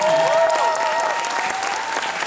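A theatre audience applauds at the final-performance curtain call of the musical The Bodyguard, a dense, steady wash of clapping from a large crowd with a few tonal cheers or whistles riding above it.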